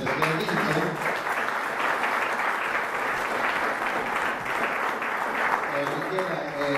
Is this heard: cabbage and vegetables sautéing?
no